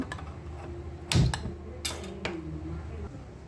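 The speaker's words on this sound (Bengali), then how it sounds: "গ্যাসটা জেলে দেব" A gas stove igniter clicks a few times, sharp ticks close by with a brief whoosh as the burner catches.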